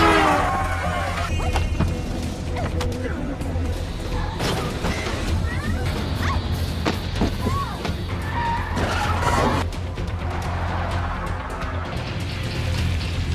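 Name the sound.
car skidding while escaping a parking basement, film scene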